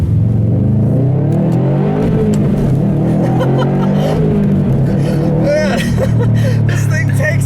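A 2018 Subaru WRX STI with its 2.5-liter turbocharged flat-4 engine accelerates hard down a back road, a loud, rising engine note with gear changes, heard from inside the car while someone talks over it.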